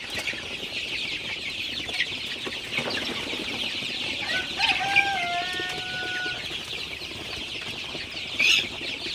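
Sonali super hybrid chicks, about 25 days old, on a poultry farm, giving soft clucks and chirps under a steady background hiss, with a few brief sharper calls near the middle and end.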